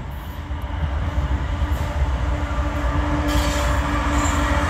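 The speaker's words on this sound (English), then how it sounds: "Train coming out of Alabama heading north." A northbound freight train out of Alabama, with loaded gondolas of scrap metal and cars of steel coils, rolls past close by. Its wheels rumble continuously, with rail hiss and faint squeal rising toward the end, and no talk over it.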